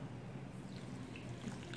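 Water poured into a pan of strawberries and sugar while making a strawberry sauce for ice cream, a soft steady trickle and drip close by, quiet and continuous with no talking.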